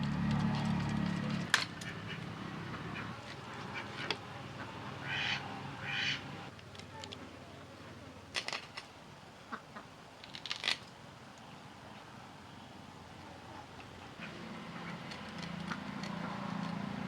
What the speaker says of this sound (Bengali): হাঁসগুলো অনেকক্ষণ থেকে মাছের গন্ধ পেয়েছে, সেই জন্য চিল্লাচ্ছে আওয়াজ।